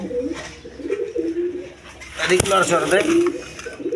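A pair of high-flying Giribaz pigeons on a pigeon farm coo in low, rolling phrases, with someone talking over the birds and a sharp knock partway through.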